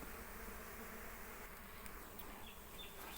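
Dwarf honey bees fly back to their nest, giving a faint, continuous buzzing hum from several insects nearby with no talking.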